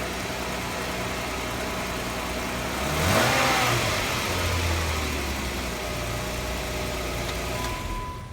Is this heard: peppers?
no